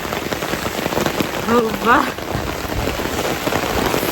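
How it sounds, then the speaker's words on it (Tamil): Heavy rain pours steadily in a village during a downpour, a dense, loud hiss on surfaces that never lets up. A brief tonal whistle rises above it near the middle. "பாருங்க மழை செம்மையாக பேஞ்சுட்டு"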